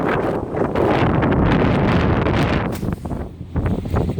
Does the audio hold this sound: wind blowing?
yes